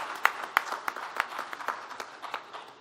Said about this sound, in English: So a big round of applause for all these equipment and metering manufacturers.